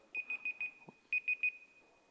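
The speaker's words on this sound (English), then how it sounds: "I had a timer instead of stopwatch" A digital countdown timer sounds off during a lecture on machine learning, giving a quick series of four high electronic beeps, a pause, then three more, moderately loud with faint room noise under them.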